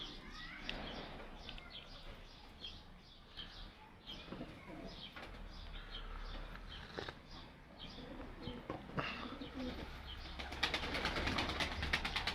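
Young pigeons in a backyard coop coo and stir, with soft wing flutters and shuffling, a steady low murmur of birds close by and some rustling louder toward the end.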